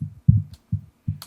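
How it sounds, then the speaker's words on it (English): Heavily distorted low-end audio from an audio-mixing demonstration plays in three thick, throbbing bass pulses at regular intervals, with brief bright ticks above, and no talking. "So what you're hearing is here's some distortion"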